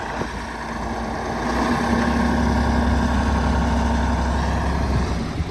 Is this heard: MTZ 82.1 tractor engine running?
yes